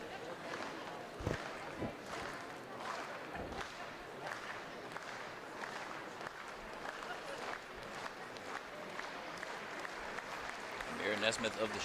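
Crowd noise and scattered applause fill an indoor track meet at the New Balance Nationals Indoor, a steady busy murmur with claps and shouts, and a commentator talking over it.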